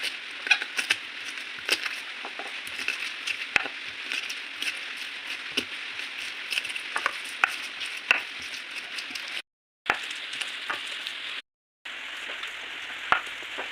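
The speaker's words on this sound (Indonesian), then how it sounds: "Kita haluskan seperti biasa, kita ulek seperti ini semuanya." Spices for Indonesian fried chicken (ayam goreng ungkep) ground with a mortar and pestle, giving a continuous close scraping and grinding with irregular knocks, briefly broken by two short pauses.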